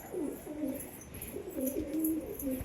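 Pigeons coo repeatedly at a pigeon house while females feed and others bathe, a steady run of soft, rolling low calls close by with no talk.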